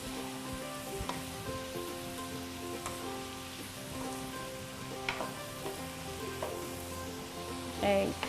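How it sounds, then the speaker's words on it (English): Vegetables fry in a pan with soy sauce for desi-style Chinese fried rice, a soft sizzle under a steady tonal hum. A few light stirring knocks come through, and a brief scrape sounds near the end. "3 and 4 tablespoons of soya sauce going in there. Okay, just gonna stir them."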